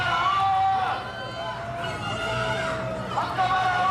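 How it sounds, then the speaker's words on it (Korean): Hardline supporters at a political party rally boo and yell in a loud, dense crowd roar that surges continuously, with voices overlapping close by throughout. "강성 지지층들이 야유와 고성을 쏟아낸 겁니다"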